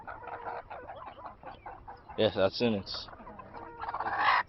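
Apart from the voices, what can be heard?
pasture poultry chickens clucking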